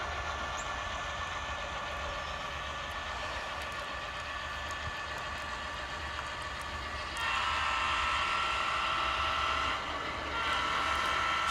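A model train runs on a layout with a continuous mechanical rumble and thin whining hum, growing a bit louder and brighter partway through, with no talk.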